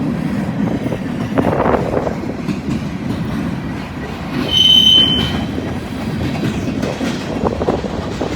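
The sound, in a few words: Buckeye freight train passing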